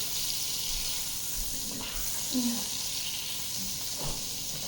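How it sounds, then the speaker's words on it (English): Butter melting and sizzling in a pan before scrambled eggs, a faint steady hiss with a couple of soft movements of the pan, with no talking. "Now some butter. More butter. Move this around."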